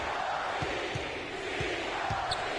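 An NBA 2K15 arena crowd keeps up a steady roar of cheering during a Sixers at Hornets game, a broad, continuous wash of noise with faint sneaker squeaks and a few ball bounces underneath.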